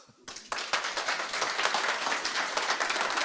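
An audience breaks into loud, sustained applause after a talk about the book Good Cop, Bad War, dense clapping filling the room without pause.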